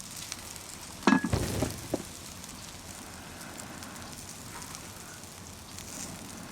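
A small wood fire crackles and hisses beneath a rice pot on an outdoor cooking rig, with a burst of louder snapping and sizzling near the start, then a steady soft crackle.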